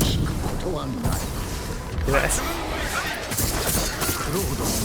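A grenade blast from Ghost of Tsushima erupts amid dense, continuous combat noise, with the booming crash blending into a loud, busy game soundscape.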